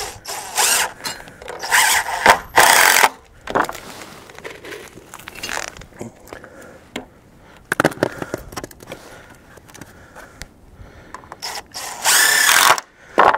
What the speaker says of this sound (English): the first thing I'm going to do is put just two screws in here to hold it